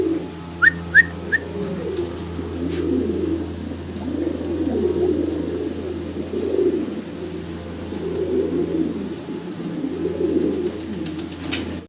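German Shield pigeons, a black pair, coo in repeated low throaty rolls at close range, with a few brief chirps near the start.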